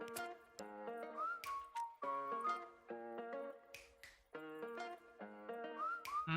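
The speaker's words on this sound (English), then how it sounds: "Whistling always works." Melodic whistling in a pop song, bright sliding whistled phrases over sharp snapping beats and bouncing synth notes, with no talking.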